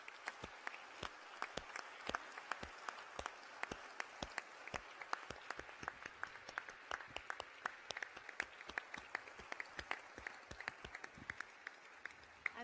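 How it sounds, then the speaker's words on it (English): Graduation ceremony audience at a School of Health Sciences gives sustained applause, a broad crowd of clapping with sharp individual claps popping out over a steady roar, continuing unbroken. "I would please ask you to stand and give them a round of applause"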